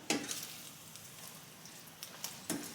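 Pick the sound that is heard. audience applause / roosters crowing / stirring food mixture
stirring food mixture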